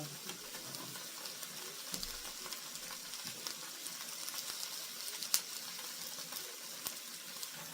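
Onions frying for sukiyaki in a pan, a steady soft sizzle with faint crackles and a few sharper ticks of utensil contact, quiet and continuous throughout.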